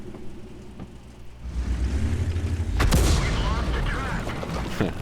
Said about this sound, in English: Artillery. Hits the front of the building, damages the tank around the side of it.